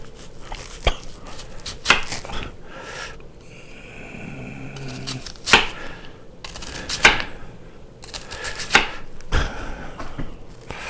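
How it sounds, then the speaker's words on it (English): Knife chopping through an onion on a board: sharp, close chops in irregular bursts with pauses between, a brief faint tonal hum in the middle, no talking. "Here we've chopped the onion."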